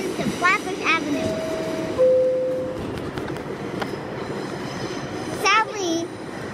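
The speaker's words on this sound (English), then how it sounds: "There's a train there. The 5 train to Flatbush Avenue." Inside a New York subway car on the 5 train bound for Flatbush Avenue, a steady rumble of rolling stock fills the space, with a couple of brief tonal whines and chimes over it and a voice chattering nearby.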